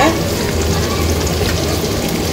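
Chicken pieces fry in hot oil for chicken biryani, giving a loud, close, dense sizzle that crackles steadily without a break.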